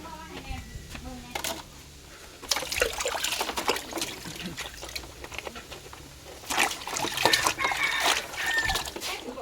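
Water sprays and splashes while washing an air conditioner unit, a steady trickling and spattering that swells in louder bursts, with voices talking over it at times.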